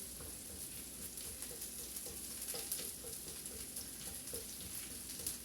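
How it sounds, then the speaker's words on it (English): Ginger sauteing in a pan for a beef and rice cake stir fry gives a soft, steady sizzle dotted with faint scraping clicks, quiet and heard alone. "I'm going to give a little bit of saute on the ginger."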